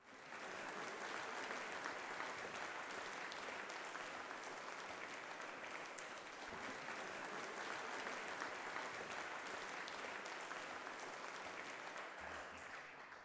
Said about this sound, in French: Ce soir, je voudrais qu'ensemble, nous applaudissions ces héros Humons qui sont les nôtres.